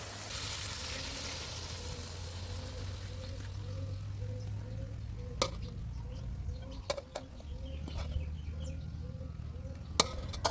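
Fried mackerel is stir-fried with red curry paste in a pan: a quiet, steady hiss at first, then sharp scattered clicks and scrapes of the utensil against the pan.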